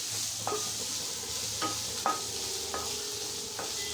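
Onions and tomatoes fry in a pan for a tomato onion chutney, giving a steady close sizzle with a few soft stirring scrapes spaced through it, and no talking.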